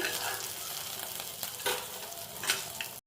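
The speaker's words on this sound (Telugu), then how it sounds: "మీ కారానికి తగ్గట్టు పచ్చిమిర్చి వేసి వేయించుకోండి ఈ విధంగా ఫ్రై అయ్యాక తీసి పక్కన పెట్టుకోండి" Green chilies fry in a little oil in a kadai, giving a close, steady sizzle with a few sharper crackles and stirring scrapes before it cuts off.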